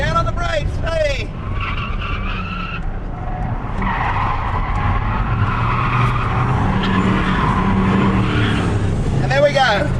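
A turbocharged car skids with no traction, its tires squealing in long wavering screeches over engine roar, with excited voices talking over the action.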